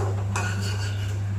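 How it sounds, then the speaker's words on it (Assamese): Sugar caramelizing in a kadai for a Ganesh Chaturthi payas gives a steady low hiss and sizzle with faint metallic scraping of a utensil against the pan, close and continuous for a moment. "এইখন কেৰাহীতে চেনি অকণমান কেৰেমেল কৰি ল'ম কালাৰটোৰ কাৰণে"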